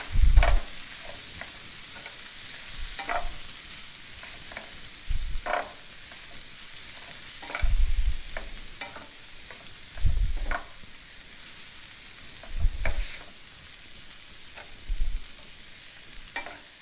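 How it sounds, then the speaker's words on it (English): A spatula stirs a portobello fajita mixture with fresh lime juice in a hot pan, giving a soft continuous sizzle broken by periodic low thumping scrapes every couple of seconds, close and fairly loud. "And I'm going to stir this all around."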